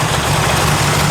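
A 1969 Camaro SS with a 427 engine idles loudly and close up, a low, steady rumble with an uneven pulse throughout this short moment.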